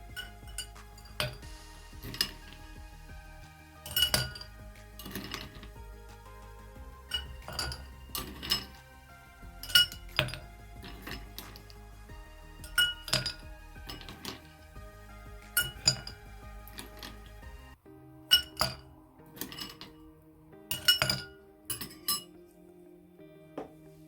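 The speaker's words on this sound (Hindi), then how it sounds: "सबसे पहले इसके अंदर मैं आइस क्यूब्स डालूंगी" Ice cubes are dropped into a glass for a plum (aloo bukhara) sharbat, making bright clinks and rattles at irregular intervals, close and clear over a quiet background.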